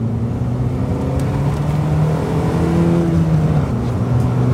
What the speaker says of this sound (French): Et là on va tester une accélération.